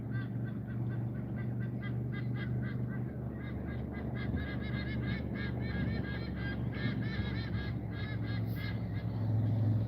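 Geese honk repeatedly in a rough, irregular chorus near a river, moderately distant, over steady low background rumble.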